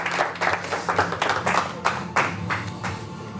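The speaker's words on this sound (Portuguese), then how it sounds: "Uma salva de palmas para o Senhor" A church congregation claps in a quick, fairly even rhythm, with about ten sharp bursts of massed hand claps over a low background hum.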